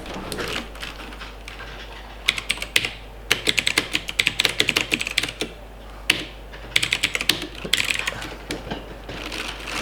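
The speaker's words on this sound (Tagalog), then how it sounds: "Nakakatuwa yung tunog. Mechanical keyboard." Keys of a cheap mechanical keyboard clack in quick bursts of typing, crisp and close, with short pauses between runs.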